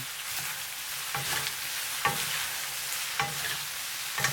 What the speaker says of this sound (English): Finally add the crushed peanuts. Keep a little for the end. Briefly stir.